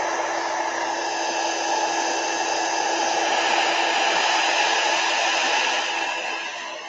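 A hair dryer blows steadily on alcohol ink ornaments, a loud, constant whooshing airflow that runs for several seconds and then begins to wind down at the end, with no talking.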